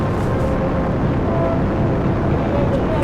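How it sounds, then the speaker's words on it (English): Rocket engines ignite at the launch of the James Webb Space Telescope from a tropical rainforest site, a dense, loud broadband roar that holds steady throughout. "And we have engine start."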